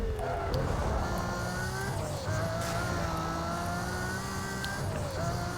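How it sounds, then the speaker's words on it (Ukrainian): A car in Need for Speed Most Wanted accelerates hard, its engine droning steadily and climbing in pitch through gear shifts, loud and close, with racing noise around it. "Прискорюємось. 352 км за годину."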